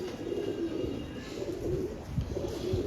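A pigeon coos in soft, low, repeated phrases close by, over a steady background hum.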